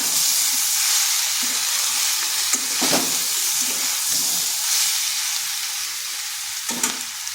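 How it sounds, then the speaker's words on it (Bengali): Pumpkin fries in a pan with turmeric and chili powder, giving a loud, continuous sizzle with occasional scraping stirs, close up and free of talk. "এটাকে মশলার সাথে বেশ কিছুক্ষণ কষে নিচ্ছি।"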